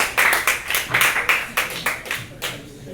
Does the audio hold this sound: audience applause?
yes